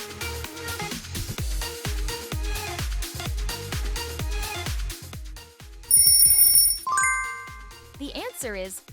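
Oppo smartphone ringtone: a rhythmic, plucked electronic melody with repeated bright notes and deep bass pulses, loud and close, ending in high chiming tones and a short warbling tail.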